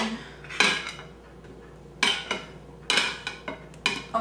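Boiled potatoes tumble into a bowl holding a little milk, setting off several sharp clinks and clatters of dishes and utensils in quick, irregular bursts.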